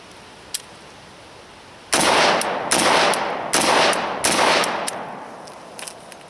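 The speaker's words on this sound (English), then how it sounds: "the muzzle of that gun is staying straight, and that's really what we want when we're running the AKs" AK-47 rifle fired outdoors in four sharp bursts of rapid shots, each loud crack trailing into echo, with a couple of isolated single shots before and after.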